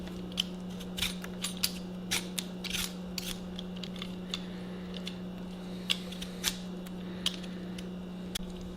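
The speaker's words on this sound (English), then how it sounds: "now I'm going to take our peeler, I'm going to peel this as well" A hand peeler scraping the skin off vegetables such as carrots in a home kitchen: a string of small, irregular clicks and scrapes at close range over a steady low hum.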